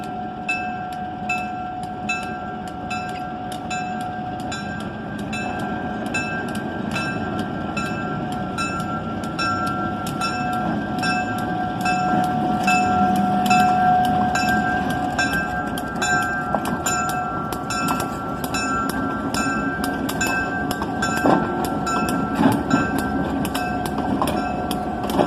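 A GP7 diesel locomotive built in 1947 leads a holiday train out of a station at night, its steady engine drone and rhythmic wheel clicks rolling on continuously and close by, with no talk.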